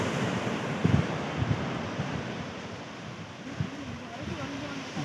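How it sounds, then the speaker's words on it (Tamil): Ocean waves wash and roar steadily on a beach, mixed with wind buffeting the microphone, while voices talk faintly underneath. "அலை வித்தியாசம் பயமுறுத்துது பாரு."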